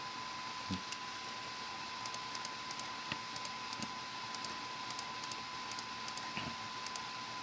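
Light, quick clicks of a computer keyboard as a patient name is typed, coming in short irregular bursts over a faint steady fan-like hum, with no talking.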